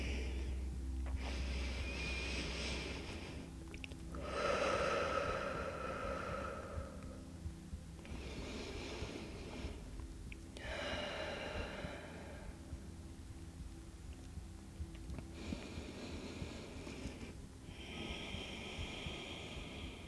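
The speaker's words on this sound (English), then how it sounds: "Let's do 4 deep breaths here." Slow, deep breathing during a yoga side-lying chest and shoulder stretch, with about four drawn-out inhale and exhale cycles, close and fairly quiet, each breath separated by brief pauses.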